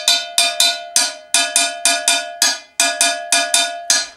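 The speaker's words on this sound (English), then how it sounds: "You have open tones on the bell and also press strokes." A single Ewe bell plays the Ajogbo pattern, mixing ringing open tones with damped press strokes in a steady, close, bright repeating cycle with no voices.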